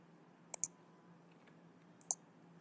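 A computer mouse clicks sharply in a quiet room: a quick double click, a pause, then another double click, faint and close.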